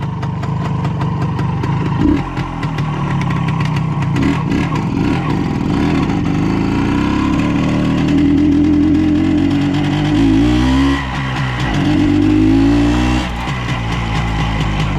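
A WSK 175 motorcycle engine runs loud and close throughout, its note climbing and falling as it revs up to higher rpm in sustained surges.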